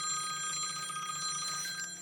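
A telephone ring sounds from a call alert made by a Starline i96v2 immobiliser fitted to a Range Rover Defender, a steady electronic ringing tone played close and loud.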